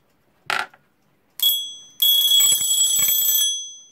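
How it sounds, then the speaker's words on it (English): Smiths Knight mechanical alarm clock being tested after reassembly: a short click and a brief burst of bell, then a longer bright metallic ringing that rattles on for about a second and a half before stopping. "Also, does the alarm work?"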